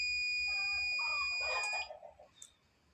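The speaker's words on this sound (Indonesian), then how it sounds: "buzzer akan aktif." An ESP microcontroller buzzer sounds in short, thin, high electronic tones, steady piercing beeps that stop after a moment and leave a quiet room with faint brief chirps.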